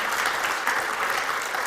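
An audience claps steadily in a brief, continuous burst of applause, evenly loud throughout.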